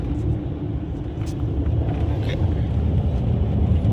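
Low engine rumble of a bus rolling past near Guindy bus stand in Chennai, continuous and fairly loud, with faint traffic noise around it.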